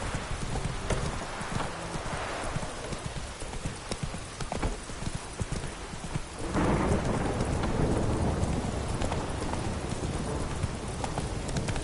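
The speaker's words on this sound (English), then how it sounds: "Lightning strike." Thunderstorm with steady heavy rain in The Witcher 3, a dense continuous wash with rumbling thunder swelling louder midway, while hooves clip-clop through the downpour throughout.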